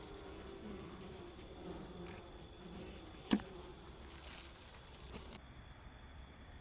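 A faint, steady buzzing hum of honeybees at a beehive during a hive inspection, with a soft background drone and one brief click midway, no voices.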